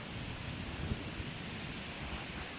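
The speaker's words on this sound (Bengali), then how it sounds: "ওই যে দেখো এদিক দিয়ে কি হাওয়া দিচ্ছে" Wind blows steadily in a broad rushing roar, buffeting the microphone with low rumbles throughout, no voices.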